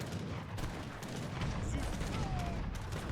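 Artillery and gunfire in an Age of Empires 3 battle, with Abus guns and culverins among the units, rumble as a dense continuous barrage under excited commentary.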